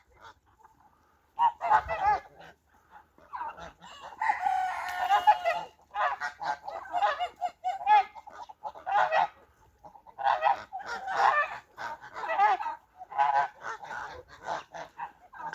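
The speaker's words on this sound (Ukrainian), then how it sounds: "Чубатий гусак наводить шорох." A crested gander honks repeatedly in a farmyard, loud close bursts of harsh calls in irregular runs with short pauses between them and no talking.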